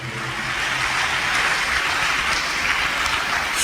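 A church congregation clapping during a sermon, a dense, continuous roar of many hands that stays loud and even from start to finish, with no talk over it.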